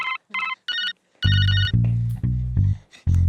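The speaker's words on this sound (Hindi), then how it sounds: "सर आपका फोन" A phone rings in repeated electronic ringtone bursts, close and clear, with a few short gaps between them, while a low thudding music bed comes in partway through.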